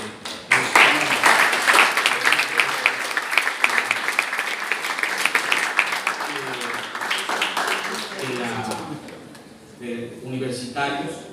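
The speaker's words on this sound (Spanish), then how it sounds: "para él pido un fuerte aplauso" An audience applauds a poet at a Spanish-language event, a dense steady wash of clapping that fades toward the end as a voice begins speaking.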